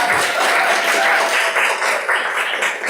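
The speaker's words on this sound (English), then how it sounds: "let's start with big applause." Audience at a Toastmasters club meeting in Seoul applauding, a dense, loud wash of clapping from many hands that carries steadily for a few seconds, fairly close to the room.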